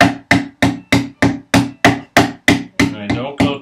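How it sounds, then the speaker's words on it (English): Dead blow hammer, struck with its softer face, tapping a wooden dovetail joint together for a jewelry box: about eleven evenly spaced, close, solid knocks with short decays, the final few slightly less crisp. "now I don't use this side of the hammer, I use the dead blow side, the softer side."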